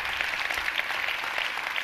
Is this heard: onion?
no